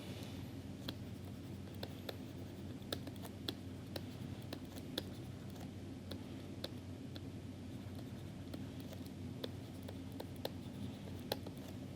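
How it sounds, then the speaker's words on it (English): Pen or marker strokes writing out a math equation, faint and intermittent taps and scratches over a steady low hum, with no voice. "let me write this down"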